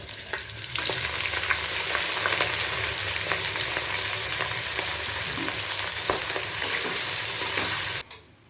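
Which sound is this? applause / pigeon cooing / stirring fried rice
stirring fried rice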